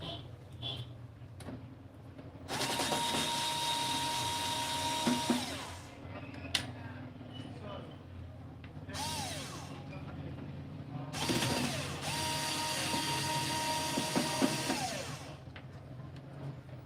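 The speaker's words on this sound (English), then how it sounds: "I need to remove these two screws." Power tool or screwdriver whirring in two long bursts while screws are removed from an inverter charger during a repair, with shorter mechanical clicks and handling noises between them.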